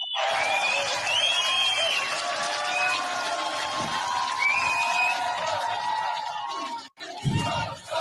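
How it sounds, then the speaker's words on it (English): A very large, enthusiastic festival crowd at Glastonbury roars and cheers continuously, with whoops and chanting voices rising over a dense wall of sound before a brief dip and a final swell. "listen to Bob Villain in front of a really big, enthusiastic crowd in Glastonbury over the weekend"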